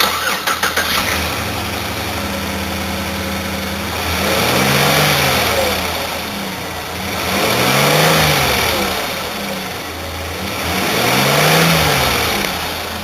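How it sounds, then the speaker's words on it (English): A 2007 Chevrolet Impala with about 198,000 miles on it, its engine cranking and catching, then running in a steady idle that swells in slow revs about every three seconds, loud and close. "engine run video."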